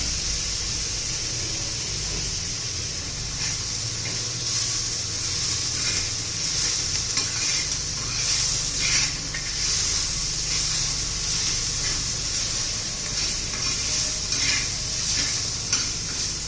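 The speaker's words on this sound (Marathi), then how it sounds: "बघा मिरची पण झालेली आहे छान असे तेलामध्ये परतू." Green chillies sauté in hot oil in a pan for a brinjal bharta, giving a steady bright sizzle with soft stirring scrapes throughout, close and continuous, with no voices.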